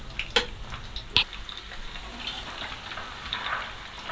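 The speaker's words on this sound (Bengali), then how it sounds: "এখন আমি এখানে দিয়ে দিচ্ছি হাফ কাপ পেঁয়াজ কুচানো।" A half cup of chopped onion goes into oil already frying bay leaf and whole spices. It gives a faint, soft crackle with a few sharp pops and ticks early on, then a low, steady sizzle.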